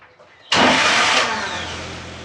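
A Series 1 Land Rover engine under restoration bursts into life and settles into a steady, loud running note close by, after a quiet start with faint background sound.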